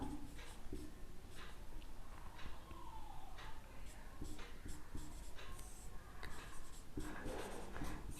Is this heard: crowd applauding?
no